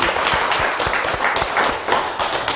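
Audience applause at a Korean televised laughter lecture, dense steady clapping from a crowd filling the room for the whole stretch, close and even with no voices over it.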